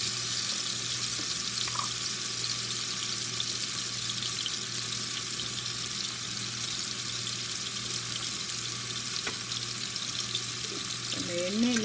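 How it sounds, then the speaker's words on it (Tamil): Garlic cloves with a little salt sautéing in oil give a steady, even sizzle throughout, with a faint voice near the end. "பூண்டு பல்லு எடுத்து வச்சுக்கிறத போட்டுக்கிறேன். லைட்டாக சால்ட்டு போட்டு நம்ம வதக்கிக்கலாம்"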